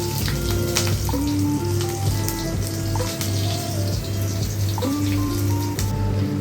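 Green chillies and five-spice seeds sizzling in hot oil, a steady, dense crackle and hiss up close with a continuous low hum beneath it and no talk.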